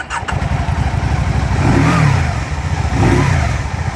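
A 2015 Can-Am Spyder RSS three-wheeled motorcycle engine idles with a fast putter, then revs up twice in rising surges before dropping back, loud and close.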